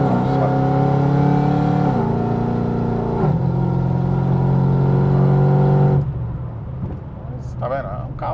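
Supercharged Chevrolet Camaro SS V8 held at half throttle, a loud, steady humming engine drone with small shifts in pitch that drops off sharply near the end.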